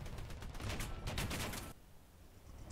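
Tank machine guns firing in the War Thunder video game, a rapid rattling burst over steady engine rumble that stops abruptly partway through.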